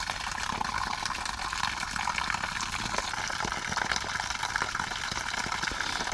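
A pump draining water out of a Starcraft fishing boat, a steady gushing, splashing flow of water that runs continuously at even loudness, fairly close, with no talking.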